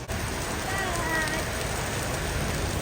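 The season's first rain pours steadily onto the ground outdoors, a dense, even patter that stays constant and close throughout.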